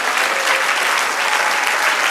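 Congregation applauding in a church service, a dense uniform roar of many hands clapping together, loud and unbroken throughout.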